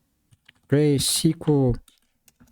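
Light clicks of typing on a computer keyboard sit around a man's speech, faint and sparse before and after he talks.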